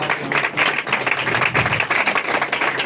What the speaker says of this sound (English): Clap for Jesus for her.